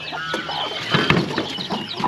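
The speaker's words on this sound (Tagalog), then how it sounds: "nandito rin yung isang inahing manok na nanunuka" A free-range mother hen pecks and clucks among other poultry, including turkeys, giving a few short, close clucks with farmyard noise behind.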